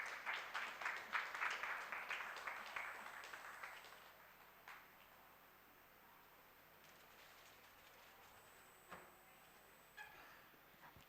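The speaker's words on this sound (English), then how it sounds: "Everyone, can we have a huge round of applause for this book?" Book launch audience applauding, a moderately close burst of hand claps over the first four seconds that thins into a few scattered claps and quiet room tone.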